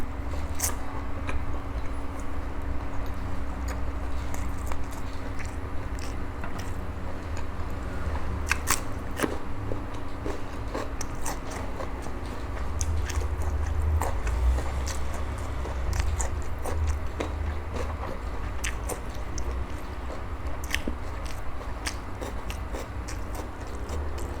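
Someone chews grilled pork intestines served with a spicy tamarind chili dip, giving close, crisp crunching bites and clicks scattered irregularly over steady low background noise.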